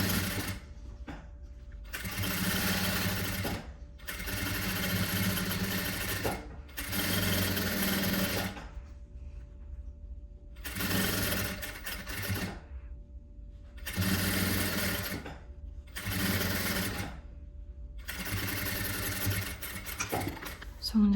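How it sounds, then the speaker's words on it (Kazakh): Sewing machine stitching a 1 cm seam on a stand-collar vest, a series of close, loud rapid-fire motor bursts of one to two seconds each, separated by short pauses, with someone speaking in between. "Енді осыны 1 см-лік тігіспен қосып тігіп шығамыз."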